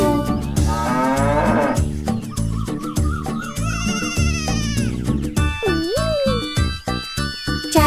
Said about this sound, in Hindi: उनके खेत में थी एक गाय